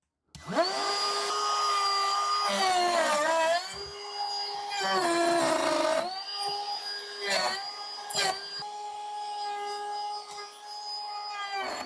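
A high-pitched whine from an Enjoywood trim router on a router sled cutting wood at a high speed setting, close and loud, with its pitch dipping and recovering repeatedly as it bites into the workpiece.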